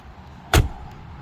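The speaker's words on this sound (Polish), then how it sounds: "Podchodzisz do drzwi, jebniesz, jak ze starej kliuwy." A Mercedes G700 Brabus door slams shut once, a single loud, close thud with a sharp crack, then quiet with a low rumble of background noise.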